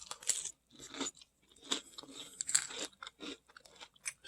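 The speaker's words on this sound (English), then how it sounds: "I decided to have some seconds since these are the plain Cheerios" Crunchy bites and chewing of plain Cheerios cereal with milk, close and distinct, in irregular bursts with brief pauses.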